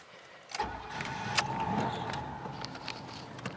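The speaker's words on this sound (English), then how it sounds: "Oh yeah, cranks up real nice like." A lowrider car engine cranks briefly and catches, then settles into a steady mid-pitched idle with a faint whine on top, close by and with no talking.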